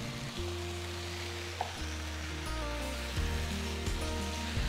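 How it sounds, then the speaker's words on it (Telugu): Spices, coriander powder and salt are stirred into red chilli mutton curry in a pan, giving a continuous sizzle and frying hiss with occasional scraping under a steady background hum, with no talking. "అలాగే 2 టీ స్పూన్ల ఉప్పు కూడా వేసి మొత్తం మిక్స్ చేస్తున్నాను."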